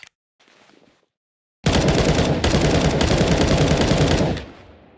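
An M4A1 rifle with the silencer removed fires a long loud unbroken automatic burst in Counter-Strike 2, preceded by faint handling sounds and ending in a fading echo.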